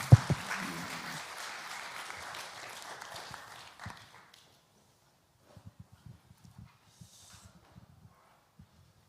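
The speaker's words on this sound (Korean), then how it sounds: "하나님께 영광의 박수를 올리겠습니다" Congregation applauding during a Sunday church worship service, a dense burst of clapping that fades out over a few seconds, leaving scattered faint taps and rustles in a quiet room.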